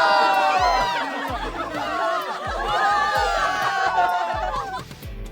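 Spectators packed at a race finish line in Love and Deepspace cheer and chatter as a crowd, a dense steady wash of voices with laughter, over a pulsing low beat of game music.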